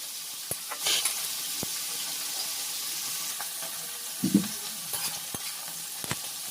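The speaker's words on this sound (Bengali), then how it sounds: "আর দিয়ে দিলাম হলুদ দিয়ে এবার একটু ভাজা ভাজা করে নিচ্ছি" Fish roe fries in a pan with salt and turmeric, giving a faint, steady sizzle broken by a few soft stirring scrapes and light clicks of a utensil.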